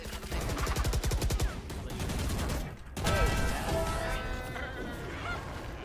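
Turret firing in the video game Valorant, fast rapid-fire bursts of gunfire rattling in rhythmic volleys, a brief pause near three seconds, then more shots mixed with game effects, fairly faint overall.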